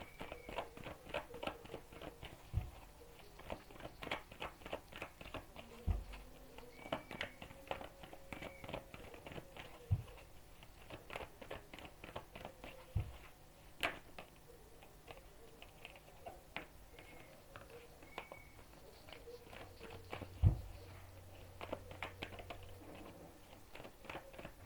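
Tarot cards being shuffled, faint rapid papery ticks and soft flicks in a long, uneven pattern, with a few low thumps, close and quiet.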